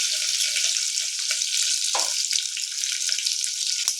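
Garlic, curry leaves, mustard seeds and cumin sizzle steadily in hot oil for a tempering, a continuous bright hiss with scattered small pops and crackles.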